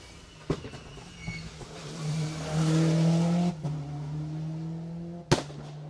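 Car 35, driven by Chris Collier, passes on a Jersey Rally stage: the engine note rises as it approaches, peaks loudly, then fades with gear changes, and sharp pops or bangs sound at the start and near the end.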